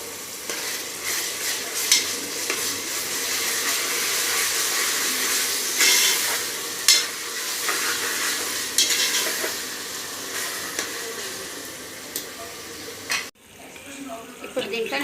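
Ginger-garlic paste and turmeric frying in a pan, a loud, dense, continuous sizzle and hiss with a few stirring knocks, cutting off sharply near the end.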